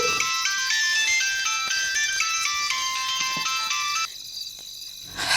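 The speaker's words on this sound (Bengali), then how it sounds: "তোমার ফোন বাজছে" A phone ringtone plays loudly, a bright melodic sequence of stepped electronic tones repeating steadily before briefly dropping away near the end.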